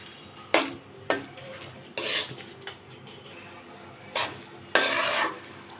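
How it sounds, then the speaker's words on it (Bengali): Coconut sweet mixture being stirred in a pan: a series of sharp scraping strokes of a utensil against the pan at irregular intervals over a faint background sizzle, close and without speech. "নাড়াচাড়া করতেছি, নাড়াচাড়া করতে করতে শুকিয়ে যাবে।"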